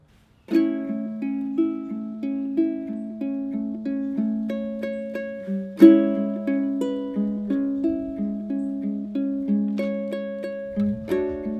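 Soft plucked strumming on a ukulele, a steady gentle rhythm of repeated chords with a slight swell midway, played alone without voices; a softer chorus of a song.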